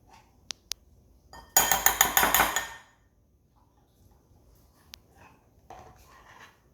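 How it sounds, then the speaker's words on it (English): Boiled eggs mashed in a bowl for deviled eggs, a burst of rapid clinking and scraping of utensil against the bowl for about a second, set between a few isolated sharp clinks before and faint handling noises after. "Our next step is to mash our eggs."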